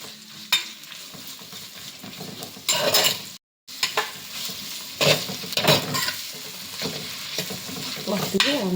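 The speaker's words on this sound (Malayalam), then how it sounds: "ചട്ടി ചൂടായി നമുക്ക് വല്ലുള്ളിയും പച്ചമുളക് നമ്മൾ ആടി ഇട്ടു. നമുക്ക് നന്നായിട്ട് ഇളക്കി കൊടുക്കാം." Onions and green chillies sizzling in a hot pan for a chicken curry, with a spoon scraping and stirring in irregular strokes over a steady frying hiss, close by.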